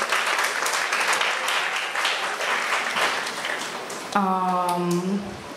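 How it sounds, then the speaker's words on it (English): Audience applause at a school prize-giving and craft display ceremony, steady crowd clapping for several seconds that thins out as a voice begins speaking over the final stretch. "Can we give them a round of applause, please?"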